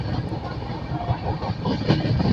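Passenger train of the Nanded–Visakhapatnam weekly special rolling along the rails near Kamareddy, a steady close rumble of wheels and carriage noise with faint clatter throughout.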